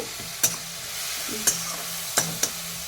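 Spice masala for a Kashmiri chilli dish frying in a pan, a low steady sizzle punctuated by four sharp spatula clinks against the pan and softer stirring scrapes, heard up close without talk.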